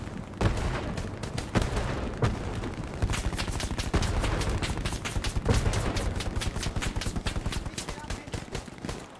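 Rapid, sustained gunfire from the Hell Let Loose video game, with dense machine-gun bursts and single shots crackling loudly over several seconds; voices talk intermittently underneath.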